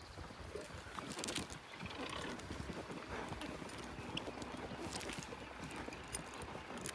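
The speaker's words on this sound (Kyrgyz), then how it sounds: "Мында жылкылар жатат." Horses moving on open ground give a steady run of hoof clip-clop and shuffling, moderately close, with wind and outdoor ambience throughout and no talking.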